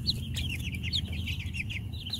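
Young pastured chickens cluck and chirp in quick, repeated bursts while sparring with neck feathers spread, the calls close and steady over a low background hum.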